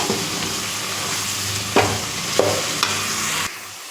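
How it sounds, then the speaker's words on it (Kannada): Spice powders being stirred and fried in a pan for radish sambar give off a steady close sizzle, broken by a few sharp scraping strokes of the spoon, with no talking. "ಚೆನ್ನಾಗಿ ಒಂದು ಎರಡು ನಿಮಿಷ ಫ್ರೈ ಮಾಡ್ಕೋಬೇಕು"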